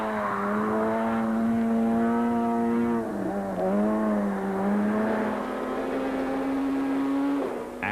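A Volkswagen Polo rally car races toward a stage finish at Tour Natal 2006, its engine holding a steady high drone that dips briefly mid-run, loud and close, before cutting off at the end.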